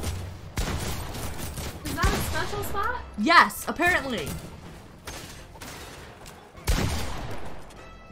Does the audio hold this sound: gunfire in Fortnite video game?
yes